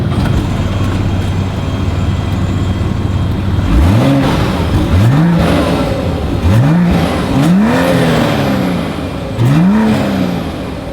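A 2026 BMW X7 idles steadily, then its exhaust gives five loud, close revs, each rising sharply and falling back, spaced about a second apart, with no talking.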